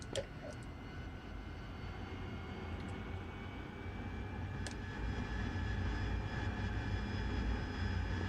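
A fighter jet engine spools up in a flight simulator game: a faint, steady turbine drone that slowly builds in strength, with a couple of brief clicks and no talking.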